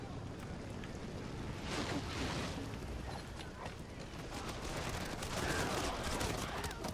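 Massed musket volleys from Shimazu clan troops in a Shogun 2 battle, sounding as dense, continuous crackling gunfire rolling on for several seconds at moderate distance, with swells of louder bursts.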